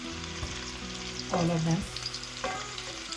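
Kofta balls shallow-frying in hot oil for a kofta curry, a steady close sizzle and crackle with brief louder bursts as they are stirred and turned.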